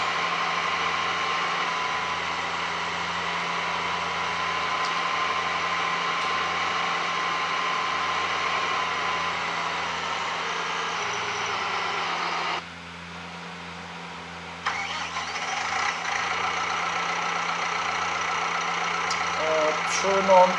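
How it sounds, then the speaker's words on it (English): Tractor engine in Farming Simulator 19 drones steadily at a low idle-like hum, continuous and fairly loud, briefly dropping off near the middle before resuming. "I'm not going to spend all my game time to drive this tractor back."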